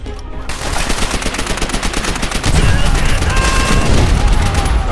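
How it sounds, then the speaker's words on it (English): A grenade goes off amid relentless gunfire in Call of Duty World at War: a dense, loud wall of rapid shots, thickened halfway through by a heavier, deeper rumble that carries to the end. "I'll just go throw a grenade."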